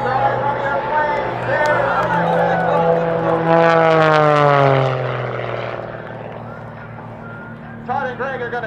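Propeller aerobatic airplane in a display at a Canadian Armed Forces Day air show, its engine drone rising and then sweeping down in pitch as it passes, with a commentator talking over the sound.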